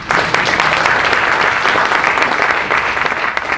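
A roomful of people at a grantee showcase applauds a state senator, producing loud, continuous clapping with scattered sharper claps, steady throughout the short stretch and free of speech.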